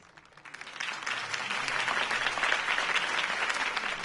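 A crowd bursts into applause after a campaign speech in a Batman video game, steady, dense clapping that swells quickly within the first second and stays full and even throughout.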